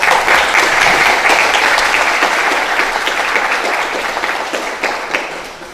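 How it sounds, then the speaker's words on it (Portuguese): A lecture audience gives a round of applause after a history talk on the Ukraine–Russia conflict, loud and dense clapping from many hands that gradually tapers off. "Gente, mais uma vez uma salva de palmas."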